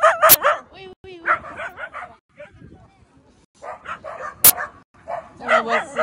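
Several dogs bark and yip repeatedly at close range, with sharp yelps and whimpers scattered among a woman's speech.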